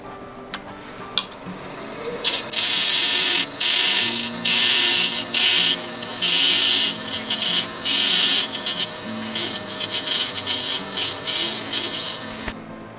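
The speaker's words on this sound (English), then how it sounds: "I'm going to reduce this with the parting tool" A parting tool cuts into olive wood spinning on a lathe, giving repeated loud bursts of harsh, high scraping hiss separated by short pauses, close up and without speech.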